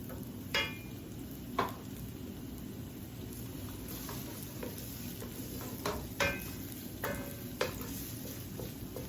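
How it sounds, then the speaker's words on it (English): Onion sautéing in a pan for fried rice, a continuous crackling sizzle with occasional sharp clicks of a utensil against the pan, no talking. "I'm gonna saute that."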